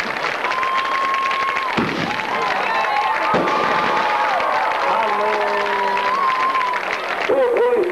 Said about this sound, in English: fireworks for compliments of Aaron Church and Crazy Boys Fireworks